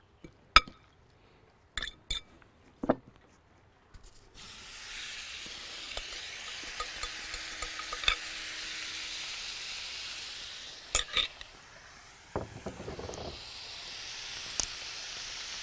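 Broccoli, garlic and black pepper are stirred in a hot pan: a few sharp clinks of a utensil against the pan open the scene, then a steady soft sizzling hiss runs throughout, with more scraping clinks near the end.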